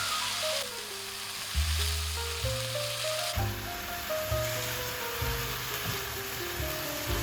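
Mung bean sprouts stir-fried in a wok and seasoned with salt and sugar give off a steady, hissing sizzle that runs beneath background music throughout.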